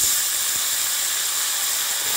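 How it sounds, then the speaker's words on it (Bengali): Eggplant pieces hit hot oil in a pan, giving a loud, steady, dense hiss of sizzling that holds evenly throughout without voices. "এবার আমি বেগুনগুলোকে দিয়ে দিই"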